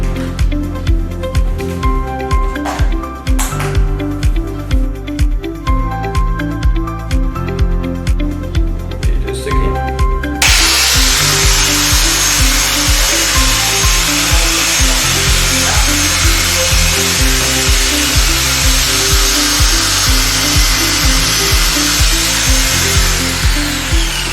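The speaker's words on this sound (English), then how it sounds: "we will use this instrument to test whether it is much more anti-scratch here" A scratch test machine runs across WPC flooring with a loud, steady mechanical drone and regular rhythmic strokes, first with a rattling edge and then as a broader continuous grinding hiss that lasts throughout.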